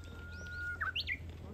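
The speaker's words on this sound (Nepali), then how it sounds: "कुन चरा हो खतरा चरा ऊ त्यहाँ रहेछ" A small bird at the azalea garden of Mimuroto-ji temple in Kyoto gives a few quick, faint chirps over a low background hum.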